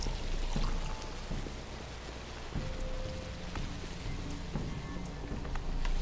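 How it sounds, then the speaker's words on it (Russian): Water pours steadily from a pump in the video game Pathologic, a continuous rushing splash like rain on a surface, fairly loud and alone with no talk. "можно здесь, кстати, наполнять воду"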